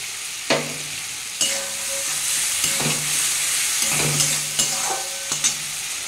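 Cumin and other spices sauté in oil in a pan for a dahi bhindi (okra in yogurt) dish, giving a steady hiss broken by several sharp spatula knocks and scrapes against the pan, close and fairly loud, with no talking.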